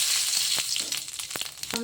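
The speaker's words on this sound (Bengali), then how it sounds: "দুটো শুকনো লঙ্কা ভেঙে দিলাম আর 5 ফোড়ন দিলাম" Broken dry red chillies and five-spice seeds sizzle in hot oil, making a close, steady crackling fry with small pops throughout.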